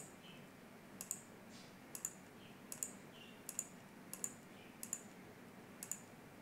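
Faint, sharp mouse clicks on a computer in a quiet room, about seven evenly spaced single clicks roughly every 0.7 seconds over a low background hiss.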